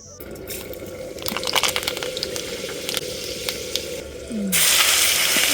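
Rice boiling in a pot gives a soft, steady bubbling and hissing close by, with a few light clinks and a louder hiss rising near the end.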